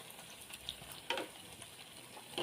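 Pieces of bread fry in very hot oil for a milk-and-bread sweet, giving a quiet, steady sizzle and crackle with a few sharper spatters and pops scattered through.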